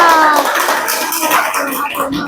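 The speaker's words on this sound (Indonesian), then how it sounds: "Oke, beri tepuk tangan dulu untuk kelompok Selasa." Classroom audience of students applauding a presenting discussion group, a brief loud burst of clapping that thins out quickly.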